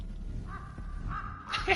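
Crows in the horror video game Rise of Insanity give a few harsh caws, two drawn-out calls midway and a sharper one at the end, heard clearly over a low ambient hum.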